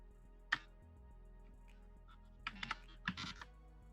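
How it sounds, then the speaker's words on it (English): Keys clack on a computer keyboard as an email address is typed, a single sharp tap followed by a quick cluster of keystrokes, close and fairly quiet against a low background hum. "we're actually typing out, this was where you would put your email address"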